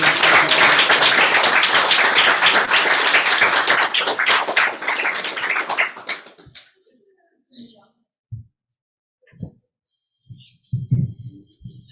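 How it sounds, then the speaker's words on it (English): Dense, steady clapping from an audience at a Sunday Feast Bhagavad Gita class fills the room for about six seconds, then fades out abruptly. Scattered soft thumps and brief talk follow in the quiet afterward. "Let's give a round of applause to our speakers."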